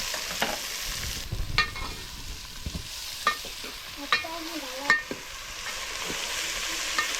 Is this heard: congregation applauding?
no